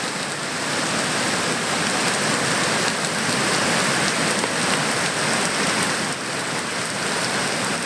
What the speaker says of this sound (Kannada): ಮಳೆ ನೀರು ಪ್ರವಾಹದೋಪಾದಿಯಲ್ಲಿ ಎಗ್ಗಿಲ್ದೆ ನುಗ್ಗುತ್ತಾ ಇದೆ.